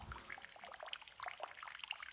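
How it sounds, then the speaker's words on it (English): Water trickling through a small drainage channel inside a disused railway tunnel, faint irregular drips and gurgles in a quiet space, with no talk. "You can just see how it's draining out the water."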